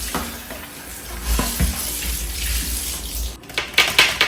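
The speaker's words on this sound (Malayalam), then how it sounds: "അപ്പോൾ ഇത് നമുക്ക് കഴുകാൻ വേണ്ടിയിട്ട് സാധാരണ നമ്മൾ എങ്ങനെയാണോ സോപ്പ് ഇട്ടിട്ടൊക്കെ കഴുകുക അതേപോലെ നമുക്ക് ഇതുപോലെ കഴുകി എടുക്കാൻ പറ്റും" An item being washed with soap under a running tap, a steady close stream of water with soft handling and rubbing noises and a few louder splashes near the end.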